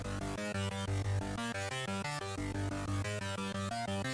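Synth preset playing a busy, dense electronic pattern of rapid pulsing notes with a clean, undistorted tone for a cyberpunk-style soundtrack, loud and continuous throughout, with no voice.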